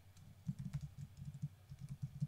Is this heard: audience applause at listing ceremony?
no